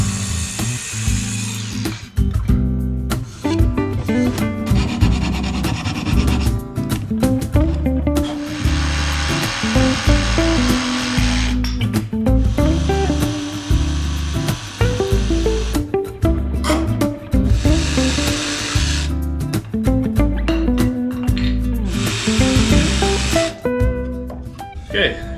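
A handsaw cuts wood for boat quarterknees in quick rhythmic strokes, each pass rasping loudly and close at hand, continuing with brief pauses through the whole stretch.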